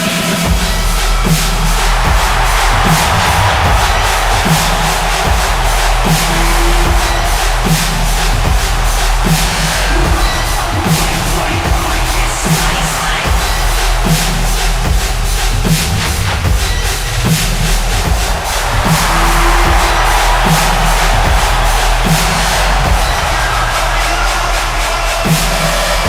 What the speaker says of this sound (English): Listen to the crowd here in Detroit, ladies and gentlemen.